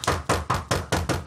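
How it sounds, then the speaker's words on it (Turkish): Loud, close knocking on a door in a series of five to six heavy raps, evenly spaced and quick, with no voices over them. "Ay kapıyı kıracak ya, çalıyor."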